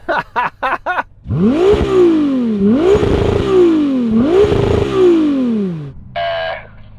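A Ferrari 296 GTB revs hard three times, each sweep a loud, rising and falling engine howl. Short sharp blips come just before the revs, and a brief higher burst follows them.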